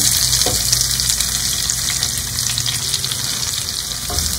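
Finely chopped medium-size onions fry in hot oil for mirchi ka salan, giving a loud, continuous close sizzle with a couple of stirring knocks against the pan, and no voices.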